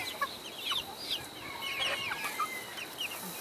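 Naked neck chickens in a mixed backyard flock cluck and murmur in soft, scattered calls, fairly quiet and slightly distant, with no one speaking over them.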